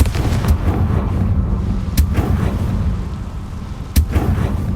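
Confringo fire spell explosions in the video game Hogwarts Legacy, two sharp loud blasts about two seconds apart over a dense rumbling battle bed.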